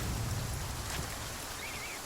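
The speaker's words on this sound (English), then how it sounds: "It is now raining like nobody's business" Rain in the video game The Flame in the Flood, a dense, even hiss of falling water that is steady and continuous for the whole moment, with no voices.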